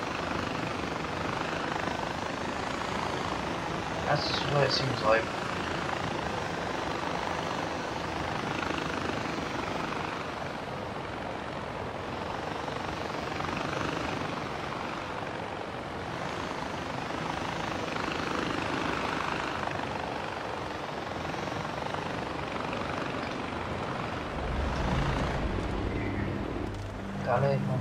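A helicopter's steady rotor drone in the video game Far Cry 4 runs throughout, fairly loud and close, with a person speaking briefly over it.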